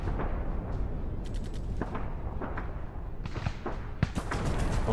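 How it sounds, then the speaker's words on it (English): Machine gun fire from tanks in the Arms Trade Tycoon Tanks war game, a dense rattling barrage of sharp bursts layered over a constant low rumble, with a heavier thump near the end. "Those machine guns must be a new German model"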